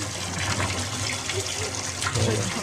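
A steady gush of water from a 1 hp pump running through plastic PVC pipes at a hillside water installation. The rushing flow continues evenly with a low hum beneath, and a voice speaks faintly over it.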